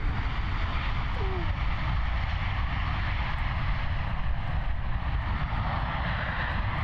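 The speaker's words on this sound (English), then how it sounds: "Awesome landing there from Air New Zealand" An Air New Zealand airliner rolling out after landing at Christchurch airport, its engines producing a steady, loud roar and rumble that holds without a break for the whole stretch.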